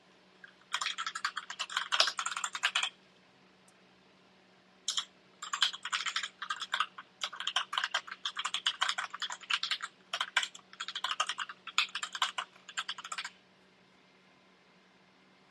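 Fingers type a password on a computer keyboard in dense bursts of rapid clicking separated by brief pauses, close and moderately quiet over a faint steady hum, with no talking.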